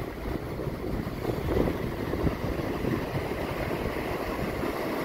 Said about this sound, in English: A slight breeze here, so we can test the wind reduction microphone on the onboard camera.